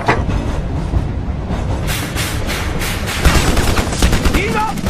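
Heavy enemy gunfire rolls through a war action film battle scene, a dense, continuous fusillade of overlapping rifle and machine-gun bursts with sharper cracks standing out, loud and close throughout.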